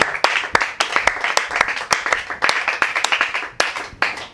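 A church congregation applauding for Jesus during a Sunday service, with brisk, uneven hand claps from a crowd that are loud and close. No cheering voices stand out above the clapping.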